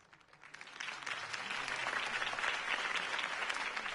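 Applause from a crowd swells over the first second and then holds as a steady, dense wash of clapping.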